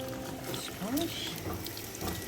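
Water runs and splashes as a gel printing plate still wet with acrylic paint is rinsed quickly under a tap, a continuous close trickle with brief wavering tones.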